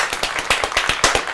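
An audience claps in a quick, sharp, closely spaced rhythm, loud and near, with no talking over it.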